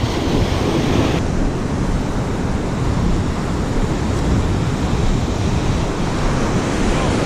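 Ocean surf breaks steadily on a beach where someone is fishing for summer flounder, a loud continuous wash of waves mixed with wind buffeting the microphone, with no voices over it.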